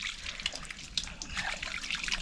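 Water trickles steadily from a tap fed by an overhead tank while hands are washed, a soft continuous splashing flow close by with no talk.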